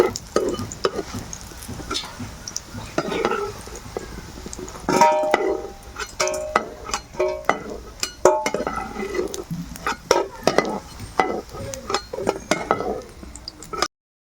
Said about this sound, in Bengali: বাকি যতটা আছে এবার ভেজে নেব একইভাবে বড়ার শেপে